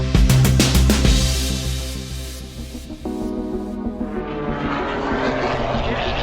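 Light propeller airplane flying in to AirVenture at Oshkosh, a steady loud engine drone with strong harmonic tones throughout, shifting pitch partway as the engine note changes, no talk over it.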